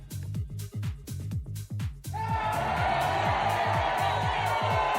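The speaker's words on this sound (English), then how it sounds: "It's supposed to be booing." A crowd booing sound effect, played during a talk show, rises into a continuous, dense wash of crowd noise over a rhythmic music beat.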